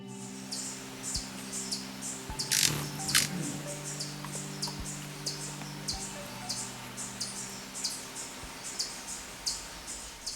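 Small hummingbirds give repeated high, thin chirps and squeaks in a steady series, with a louder burst of buzzy wing or call noise near the start, over a constant low hum.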